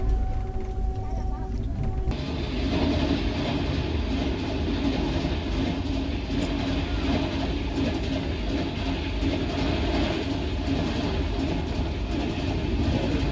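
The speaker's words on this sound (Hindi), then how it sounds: "तो ट्रेन क्रॉस हो रही है।" From aboard the Paschim Express on the third line near Mathura, a passing train rushes alongside with rumbling wheels and clickety-clack, loud and continuous, after a short muffled interior opening.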